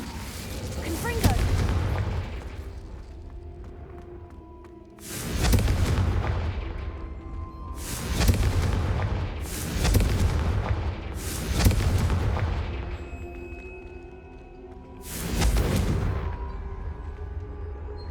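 Confringo explosive spells blast in a Harry Potter video game: six loud, booming detonations at uneven intervals, each decaying into a rumbling tail over a steady ambient backdrop.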